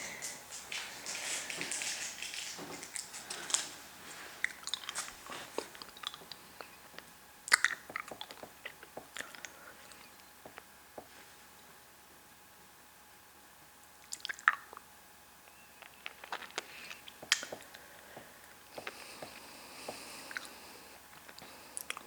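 Hard candy is sucked and crunched close to the mouth, with wet squishy clicks, occasional sharp cracks and smacking spread sparsely over quiet stretches, no talking.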